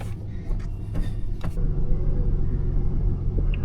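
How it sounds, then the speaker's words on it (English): A vehicle winch works to pull a truck stuck in deep snow in remote Alaskan mountains, giving a steady, loud, low motor rumble with a few brief clanks early on. "Let's do some winching."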